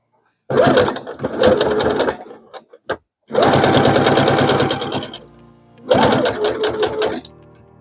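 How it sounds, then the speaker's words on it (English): Sewing machine topstitching fabric coasters at a long stitch length of about 3.5 to 4, heard in three loud, close bursts of rapid needle chatter separated by short silences and a couple of faint clicks. "then we'll do some top stitching"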